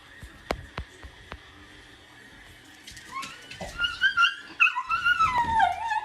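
A dog whines indoors, starting with a few sharp isolated clicks and then rising into a run of high, wavering, nasal whimpers that grow louder and more insistent over the last three seconds.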